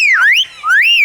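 A Philippine bird that imitates human sounds whistles two rising-and-falling wolf-whistle-like notes with a short gap between them, loud and close, with no one else heard.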